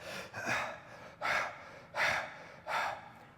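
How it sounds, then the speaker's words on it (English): Deep breaths drawn in and pushed out through the mouth, four audible breaths in a slow steady rhythm, close and breathy with no talking. "We're going to breathe in through the mouth and out through the mouth, like this."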